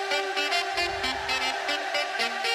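A rhythmic music sample with fade applied in Ableton, playing steadily and fairly loud, with regular percussive hits over sustained tonal layers and no talking.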